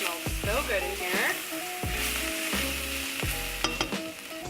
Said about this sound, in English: Give it a little saute really quick.